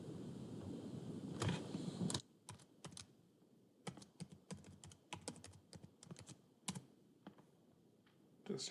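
Password keystrokes clatter on a computer keyboard, a quick burst of distinct taps followed by scattered single clicks, close and fairly quiet over a low background hum.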